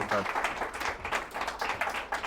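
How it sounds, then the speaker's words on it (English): A room of people applauding at the close of an evening talk, a steady patter of many hands that carries on without a break. "Can we please have a round of applause for the wonderful Peter Matthews?"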